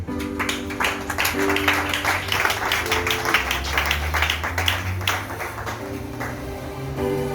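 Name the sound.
congregation applauding in church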